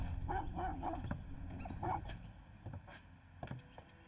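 Dogs bark and yip in short irregular bursts, moderately near, with some whimpering over a murky background.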